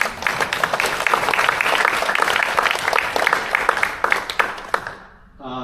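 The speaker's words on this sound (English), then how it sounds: "let's give a round of applause to each of you" A crowd at a volunteer appreciation event for community emergency response team members breaks into sustained applause, loud and dense, then thins to a few claps and fades as a voice begins at the end.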